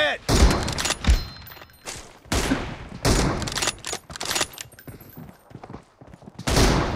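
Video game gunfire cracks in rapid bursts and single shots, loud and close, with shell-like clinks and thuds between volleys and voices talking over the action.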